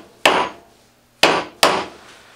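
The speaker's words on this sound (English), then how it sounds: "give it a couple of blows with the hammer" Three sharp hammer blows strike a chuck to seat it on a WEN 4214 12-inch variable speed drill press. The first lands alone, then two more come close together, each a loud, near crack with a short ringing tail.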